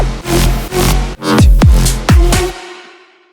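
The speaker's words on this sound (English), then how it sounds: "if I play just the track from the drum fill" Isolated drum fill track from an electronic dance music production, loud and punchy, with booming kicks and dense hits building into rapid, pitch-dropping tom-like thumps before ringing out.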